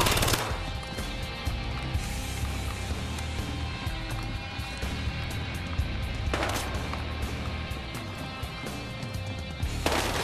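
Battlefield Hardline video game gunfire: dense, continuous automatic bursts with sharp, loud cracks near the start, around the middle and at the end.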